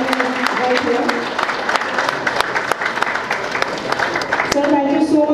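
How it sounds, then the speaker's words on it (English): A crowd gives a big round of applause for company directors at a clubhouse inauguration, dense continuous clapping with sharp individual claps standing out and voices mixed in, loud and sustained. "Can you please have a huge round of applause, ladies and gentlemen"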